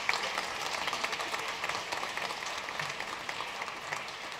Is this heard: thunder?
no